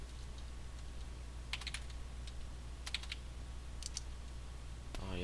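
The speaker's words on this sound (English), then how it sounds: "I just realized I was typing in all caps." Someone types on a computer keyboard in quiet, scattered bursts of clicking keys, a few quick strokes at a time, against a low steady background hum.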